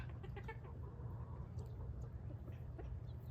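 Hens cluck quietly in a backyard flock with roosters, a few soft calls over a steady low rumble of background noise.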